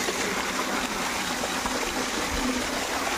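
Steady, rushing water pouring continuously from the outlet of a 3HP solar pump drawing from a 100-foot deep well for a fishpond, a dense broadband splash with no pauses, close by and fairly loud.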